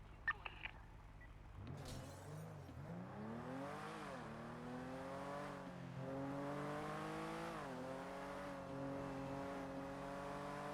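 Engine of a car in the GTA V NoPixel roleplay game revving up, its pitch climbing in steady rising sweeps as it accelerates, loud and continuous after a brief quieter start.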